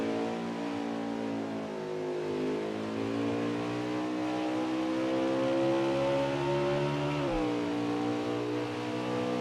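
A race car engine from NASCAR Heat 4 holds a steady high drone through final turns on the last lap, with one brief dip and recovery near the end, continuous and close.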